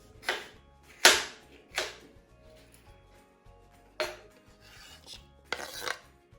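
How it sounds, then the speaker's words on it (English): A knife chopping red pepper and red onion into chunks, heard as several sharp, separate cuts on a board with pauses between them, close and fairly loud. "I'm just going to cut it into chunks and add it to our lovely marinade"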